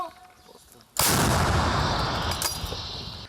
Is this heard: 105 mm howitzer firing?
yes